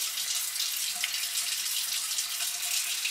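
Water runs steadily from a bathroom tap into a sink during face washing, a continuous even hiss and splash with no talking.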